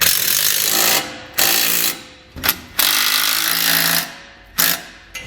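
A power tool drives a 13mm socket to tighten nuts while a winch mount is installed on a 2018 Kawasaki Mule ATV. It gives loud rattling bursts of about a second each, separated by short pauses, close up.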